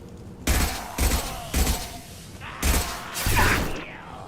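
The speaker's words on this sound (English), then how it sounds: "Taking heavy fire!" Gunfire in Mass Effect 2: five loud, sharp shots about half a second apart, each with a short echoing tail, with a quiet pause before the last two.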